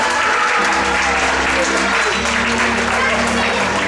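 Loud, dense applause from an audience at a 5th grade graduation ceremony, continuous crowd clapping throughout with a low musical drone beneath.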